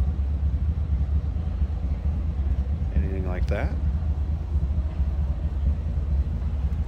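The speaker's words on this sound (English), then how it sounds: "let's slip around to the back so you can hear this run" A 1949 Dodge Coronet four-door sedan with a mild exhaust idles, heard from the rear as a steady, loud low rumble while someone speaks over it.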